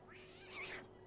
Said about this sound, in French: le petit chat qui a un peu peur, j'ai cliqué au-dessus.